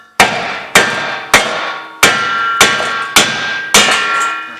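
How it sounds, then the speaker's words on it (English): Seven sharp metallic hammer strikes on the loose rear wheel bearing of a 2017 Ford Escape, evenly spaced, loud and close, each ringing briefly before the next. "So let's give this bearing a little tap here, see if we can get it loose."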